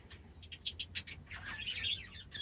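A friendly pet budgerigar chirps in a quick, irregular series of bright tweets, ending in a busier warbling burst, heard fairly close in a quiet room with no talking.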